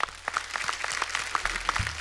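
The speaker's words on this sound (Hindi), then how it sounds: "ओपी नैयर साहब के लिए जोरदार ताली," A studio audience at a comedy show breaks into applause, a dense steady patter of many hands clapping at close range.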